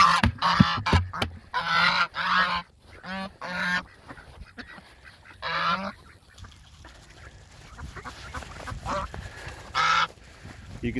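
Geese on a farm field honk and scream in loud, repeated bursts close by, with harsh calls tumbling over one another and brief quieter gaps between rounds of noise.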